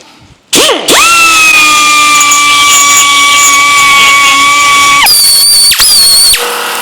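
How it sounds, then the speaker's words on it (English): A die grinder whines steadily at high speed while cleaning out the inside of a steel leaf spring bracket on a Scout front axle, loud and close, with its pitch dropping as it spins down near the end, no talking. "I'm cleaning up inside the bracket for the leaf spring with the die grinder"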